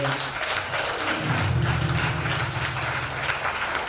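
A church congregation applauding Jesus during a praise and worship service, producing a steady, moderately loud patter of many hands clapping together that continues throughout.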